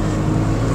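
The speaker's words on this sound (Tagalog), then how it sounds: "rinig ko yung motor niyang maingay" Engine of a 2024 Suzuki S-Presso AGS running noisily, a brief, steady low rumbling drone heard close and fairly loud with no voices.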